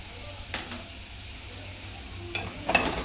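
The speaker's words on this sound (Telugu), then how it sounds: "ఇప్పుడు మొత్తం ఇలా కలుపుకోవాలి" Potato curry with coriander, cumin powder and fresh coriander leaves is stirred in a pan, giving a soft low sizzle with a few brief scraping strokes of the spoon, faint and close.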